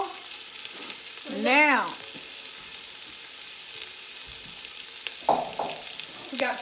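Vegetables sizzle steadily in a pot while a vegan vegetable soup cooks, a constant broadband frying hiss throughout, with a brief spoken word and faint kitchen clatter partway through.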